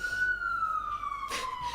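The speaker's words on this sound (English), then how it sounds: "And also I apologize for the sirens outside." A siren wails outdoors at a distance in Brooklyn, its steady tone slowly falling in pitch, with a brief burst of traffic noise partway through.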